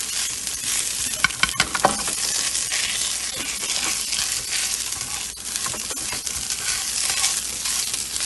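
Tomato paste being stirred into a sizzling chicken curry over an open fire, a continuous frying hiss with scattered scraping and clinking strokes of the spoon against the pot.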